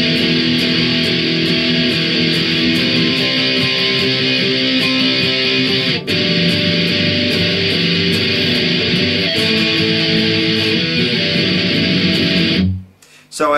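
Distorted electric guitar plays the verse of a song, a loud, dense, steady strummed part running continuously before cutting off abruptly near the end.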